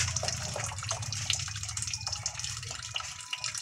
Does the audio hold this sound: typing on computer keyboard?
no